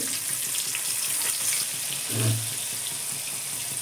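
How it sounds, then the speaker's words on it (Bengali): Onions fry in ghee with bay leaf, cardamom, cinnamon, cloves and fennel in a pan, making a steady close sizzle with a brief louder burst partway through, and no talk. "পেঁয়াজটা ভেজে নেব"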